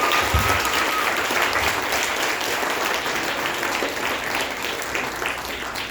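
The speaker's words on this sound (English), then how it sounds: "why don't we give the author a big round of applause" Steady audience applause for the author at a Filipino literature book launch, a dense sustained clapping from a room full of people that holds evenly throughout with no voices over it.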